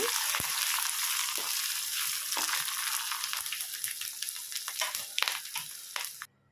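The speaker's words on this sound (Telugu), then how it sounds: "రెండు పెద్ద పచ్చిమిరపకాయలు వేసుకోవాలండి వేసుకొని ఫ్రై చేసుకోవాలి" Beans and two large green chillies fry hard in hot oil for rice upma, giving a loud, dense, continuous sizzle close up, with scattered stirring scrapes. It cuts off abruptly near the end.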